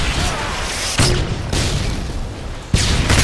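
Heavy bursts of gunfire and booming blasts from Call of Duty fill the mix continuously, with sharp impacts punctuating a dense, loud wash of in-game battle noise.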